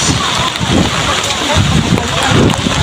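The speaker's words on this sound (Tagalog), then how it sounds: "Grabe yung ulan, guys." Torrential rain at Tabon Cave, Palawan, splashes and sloshes in a thick continuous roar close by, with bursts of heavier spatter and people talking under the downpour.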